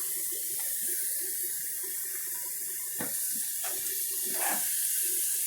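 Water being poured into a mini twin tub portable washing machine, a steady close hiss of flowing water with a few brief splashes and knocks, no talking.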